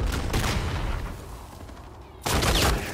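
Gunfire from a player's sniper-capable weapon in Call of Duty: Infinite Warfare rattles in loud close bursts, fading to a quieter lull before another sharp volley hits near the end.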